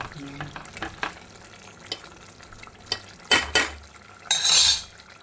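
Curry leaves from a home tree are dropped into a simmering brinjal (vankayya) curry, giving a few close bursts of sizzle and spoon-on-pot clinks over a low bubbling background.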